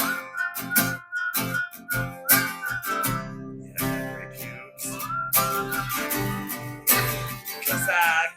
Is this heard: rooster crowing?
no